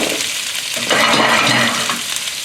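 Pork chop searing in a hot pan, Asian style, giving a steady bright sizzle that swells louder midway as the meat is moved, with no talking.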